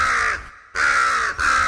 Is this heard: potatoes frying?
no